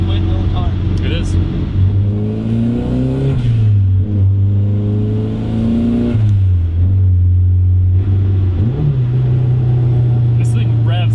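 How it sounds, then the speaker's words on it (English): Turbocharged Mazda Miata engine revs repeatedly while driving, rising and dropping through several loud, close pulls and shifts, with occasional voices in the cabin. "This thing revs so much faster than the Rally Miata."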